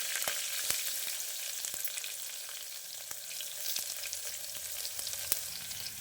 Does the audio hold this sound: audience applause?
no